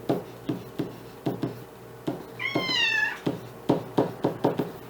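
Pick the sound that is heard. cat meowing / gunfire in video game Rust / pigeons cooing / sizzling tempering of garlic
cat meowing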